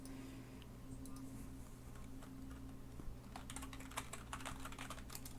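Faint computer keyboard typing in the background during a Life is Strange Before the Storm session, scattered clicks growing busier in the second half beneath a steady low hum, with no voices.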